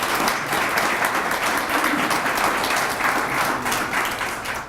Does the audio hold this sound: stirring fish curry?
no